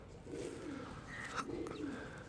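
A pigeon coos softly at a breeder's loft, giving a faint, low repeated cooing over quiet background hum.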